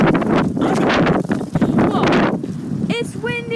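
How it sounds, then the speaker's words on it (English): Strong wind buffets the microphone outside a Target store on a stormy late-November day, a loud, continuous rough rumble with gusts, and a voice is briefly heard near the end. "Whoa. It's windy. Can you hear that?"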